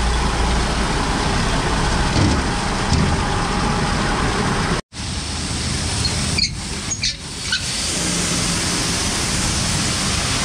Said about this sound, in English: that's the first truck of the second round going out for the day